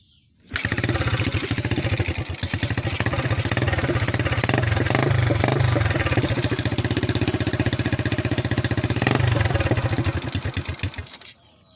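A motorcycle engine, newly running after a faulty stator coil, starts and runs steadily at a rough idle for about ten seconds, close and loud, then cuts off.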